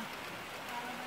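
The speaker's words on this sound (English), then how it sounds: "if it keeps raining like this" Rain falls steadily on a backyard catfish pond construction site, a soft continuous patter at moderate distance, brief and unbroken, with no clear speech.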